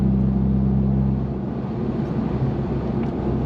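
Interior of a 2024 Ford Mustang EcoBoost cruising in 8th gear with the exhaust in its loudest setting, a steady low, smooth engine and road rumble with mild wind noise and no drone or talking.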